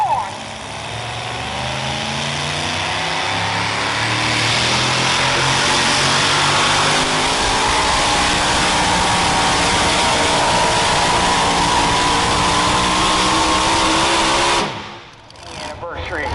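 The Stormer, a pulling truck at the 2021 Hartford Fair truck and tractor pull, roars at full throttle under steady heavy engine noise with rising pitch for about fifteen seconds, then cuts off abruptly. An announcer's voice is faintly mixed in.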